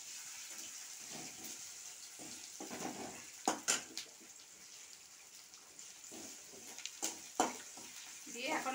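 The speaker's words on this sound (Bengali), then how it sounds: "এখন আমি এগুলো একটু ভাজা ভাজা করে নেব।" Chopped onion, garlic and a dried red chili fry in a pan. A quiet, even sizzle is broken by occasional sharp scrapes and taps of stirring, heard close up with no voices.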